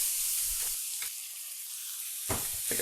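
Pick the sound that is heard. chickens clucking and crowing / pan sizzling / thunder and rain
pan sizzling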